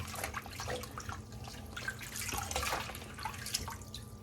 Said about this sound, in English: the maitake mushroom, they say you shouldn't really submerge them, but I'm gonna just do it a little bit lightly